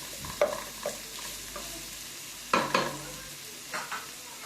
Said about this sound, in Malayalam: നമുക്ക് ഇതും ഒന്ന് നന്നായി മിക്സ് ചെയ്ത് കൊടുക്കാം